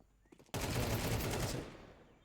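Rapid burst of Desert Eagle gunfire in a competitive bomb-plant video game match, a loud dense volley lasting about a second before tailing off, preceded by a few faint clicks.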